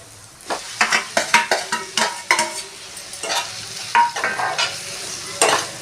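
Taro root pieces fry with turmeric in a hot pan, a steady sizzle broken by repeated scraping stirs of a spatula, close and moderately loud with no talking.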